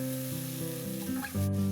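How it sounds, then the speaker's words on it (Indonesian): Ground spice paste sautéing in a pan for spicy stir-fried egg and green beans, a bright steady sizzle with a few soft stirring scrapes, close and continuous with no talk. "Untuk langkah selanjutnya, kita tumis bumbu yang telah dihaluskan"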